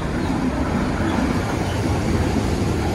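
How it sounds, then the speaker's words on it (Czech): A small train passes near a cycling route between Nymburk and Poděbrady, a steady mid-distance rumble of wheels blended with wind and outdoor ambience. "Koukejte, teď mi jde vláček."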